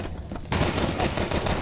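Rapid gunfire from Beretta pistols during a Counter-Strike esports match, a loud burst of overlapping shots starting abruptly and continuing densely to the end, with no talk over it.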